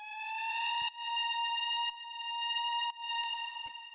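A synth lead built in Ableton's Operator from layered saw and square waves holds a bright, buzzy sustained tone, with brief dips between long notes, steady and alone without any talking.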